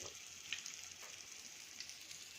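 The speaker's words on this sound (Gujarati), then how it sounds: "ક્રિસ્પી થાય ત્યાં સુધી આપણે તળી લેશું આપણું કરેલું સરસ એકદમ ફ્રાય થઈ ગયું છે" Crispy masala karela (bitter gourd) pieces frying in hot oil, giving a steady, even sizzle with faint crackles and no talking.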